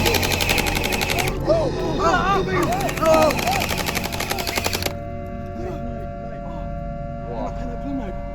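Rapid bursts of gunfire crackle in a game, with chattering automatic fire up front, then fainter scattered shots and electronic tones.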